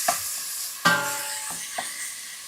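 Meat being stirred in a pot for Japanese curry, a few distinct scrapes and clanks of the spoon against the pot over a soft continuous sizzle, close and moderately loud.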